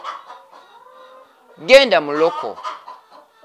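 Local breed hens on a poultry farm give a loud, close rising cluck-squawk mid-clip, amid softer clucks, while a person speaks briefly.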